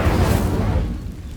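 Incendio fire spell blast in Hogwarts Legacy: a loud, low booming burst that stays strong for about a second, then fades under a lingering rumble.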